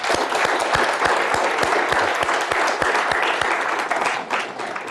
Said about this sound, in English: So Karen, would you stand up and receive the applause of this group?